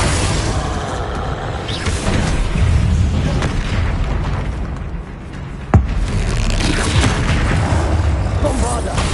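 Bombarda blasting spell exploding during a Hogwarts Legacy battle, a dense roar of booms amid combat noise with one sharp burst standing out partway through, loud and continuous with no clear pauses.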